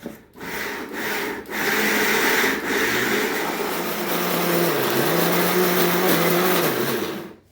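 A mixer grinder blends almonds with milk into a smooth paste for badam halwa. Its loud, steady motor whirs for several seconds after a few short starting bursts, then cuts off abruptly.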